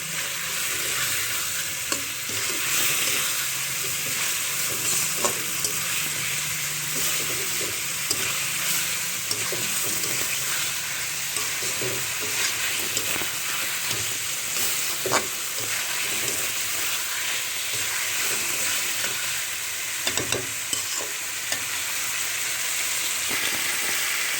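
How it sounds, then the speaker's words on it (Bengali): A large, long fish is stir-fried steadily in a pan, cooked down like meat, giving a continuous dense sizzle with occasional stirring scrapes and no talking. "মাছগুলো ভালোভাবে মাংসের মতো কষিয়ে নিতে হবে"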